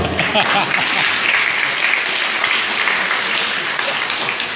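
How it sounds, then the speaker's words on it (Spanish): A church congregation in Barrio del Calvario, Jocoaitique, claps together in a dense, steady round of applause that fills the whole stretch at even loudness, with voices mixed into the crowd noise. "Un aplauso."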